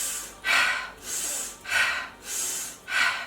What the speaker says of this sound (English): inhale through the nose, exhale through our mouth